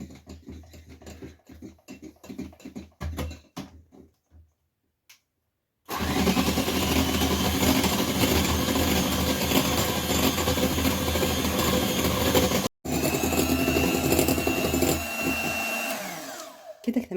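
Electric mixer whipping a milk and ice-water mixture for a sponge cake, starting with scattered clicks and knocks before a loud, steady motor whir, briefly cut off and restarted, close and continuous.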